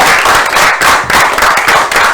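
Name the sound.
audience applause for the Institut de la Gombe A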